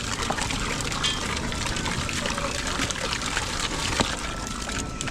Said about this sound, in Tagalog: Ayan guys, lakas po ng tubig oh.